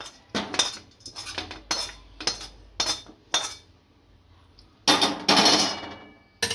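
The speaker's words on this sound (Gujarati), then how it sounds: "ગેસ બંધ કરી અને એક વાસણમાં કાઢી લઈશું" Sticky date mixture scraped out of a pan into a vessel, a series of sharp metal scrapes and clinks of spoon on metal in short bursts with quiet gaps, close by, no talking.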